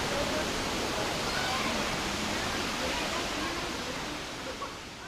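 Indian Run Falls in a deep gorge in Dublin, Ohio, pours as a steady, dense broadband rush of falling water, close and loud, continuous throughout without voices.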